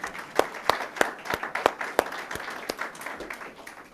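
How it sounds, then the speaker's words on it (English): An outdoor Memorial Day ceremony audience in Montclair gives a round of applause, scattered individual claps standing out sharply over a softer wash of clapping that gradually tapers off. "Give yourselves a round of applause."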